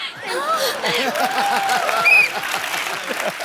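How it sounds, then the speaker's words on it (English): Audience applause at a celebrity comedy show, steady clapping with some chuckles and murmurs mixed in, fairly loud and sustained throughout. "जोरदार तालियां"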